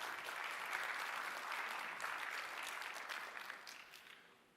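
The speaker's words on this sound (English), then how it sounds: "Let's give him a bigger round of applause." An audience at a business keynote event claps for an organizer, a broad, sustained burst of applause that gradually thins and trails off, quiet and somewhat distant.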